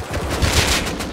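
Gunfire in the shooter game Escape from Tarkov: a quick burst of a few sharp shots in rapid succession, close and moderately loud over a noisy background.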